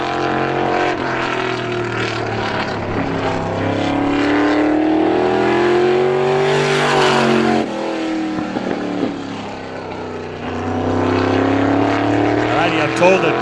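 Race car engine at Star Speedway during super time trials, a steady droning tone rising and falling in pitch as the car laps the oval at mid distance, with a commentator talking over it.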